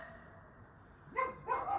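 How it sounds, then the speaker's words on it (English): Neighborhood dogs bark in the distance, with two short bursts of barking standing out over a quiet background near the end. "The neighborhood dogs are going crazy at the moment."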